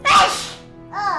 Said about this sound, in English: That's how hard we sneezed.